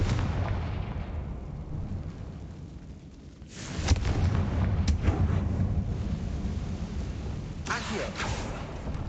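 Confringo fire spell explosions in the video game Hogwarts Legacy: two booming blasts with crackling bursts over a low rumbling ambient bed, loud and close.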